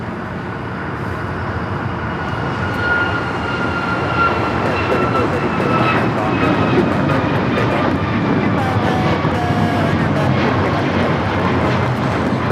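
An Alaska Airlines Boeing 737 MAX 9 takes off from LAX, a broad, steady jet roar building slightly and sustained, with a faint voice and radio chatter over it.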